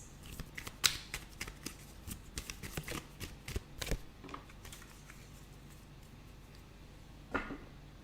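Tarot cards are shuffled by hand in a series of crisp riffles and flicks that cluster during the first four seconds, then thin out, with one last brisk shuffle near the end and no voices.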